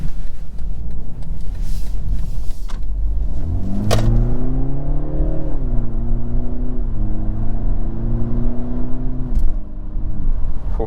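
A 2023 BMW 330i pulls away hard from inside the cabin, its engine note climbing in pitch through the gears with clear shift dips, loud and close over road rumble, then easing toward the end.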